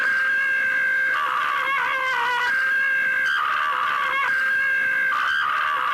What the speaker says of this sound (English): Yeah, there's a lot of screaming.